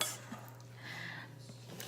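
A spoon scrapes and clinks against a bowl while stirring a thick energy bites mixture with peanut butter, giving a few soft clatters and a brief scraping swirl, close and quiet.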